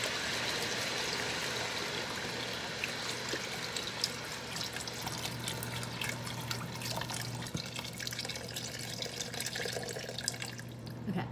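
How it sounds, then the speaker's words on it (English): Beef broth poured from a box into a cooking pot for pho, a steady splashing liquid stream that runs continuously throughout, close and fairly loud, with a low hum beneath and no talking. "I'm going to start pouring our broth in here."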